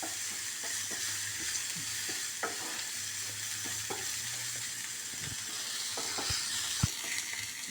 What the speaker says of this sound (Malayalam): ഇനി ഇത് നന്നായി ഒന്ന് സോട്ടായിട്ട് വരട്ടെ.